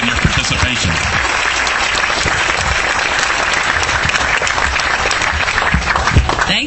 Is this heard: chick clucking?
no